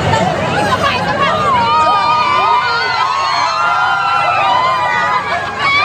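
Loud crowd shouting and yelling at a motorcade for gymnast Carlos Yulo near Quirino, many overlapping voices raised in commotion, with cheering-like cries rising and falling over a noisy background.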